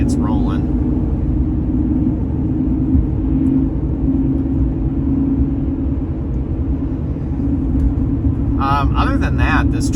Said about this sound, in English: as you can hear, it's going through all the gears once it gets rolling.